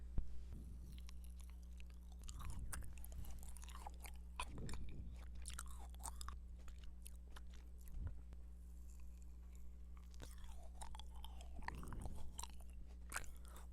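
Jelly candies bought at a CU convenience store are chewed close to the microphone, giving soft, squishy bites and small wet crunches in an irregular rhythm over a quiet steady hum.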